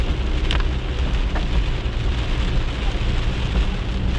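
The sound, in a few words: rain and thunder during a violent thunderstorm in Maine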